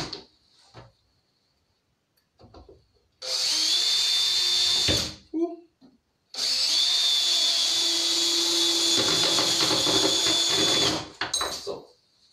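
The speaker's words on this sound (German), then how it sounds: "Deswegen kann ich hier auch mit relativ gutem Gewissen mal eben eine Schraube reinsemmeln." Power drill driving a screw into a board in a home workshop, two sustained high whining runs of a few seconds each with brief pauses between, close and fairly loud.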